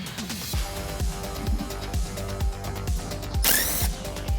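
An inner tie rod tool being ratcheted to loosen the inner tie rod from the steering rack of a Toyota AE86, with repeated rhythmic ratchet clicks roughly every half second and a brief sharp metallic squeal near the end.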